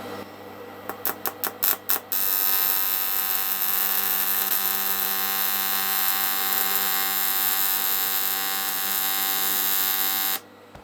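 An AC/DC TIG welder (R-Tech 261TFT) working on an alloy cylinder head gives several short buzzing bursts, then a long steady harsh electric buzz with strong hum that stops abruptly near the end.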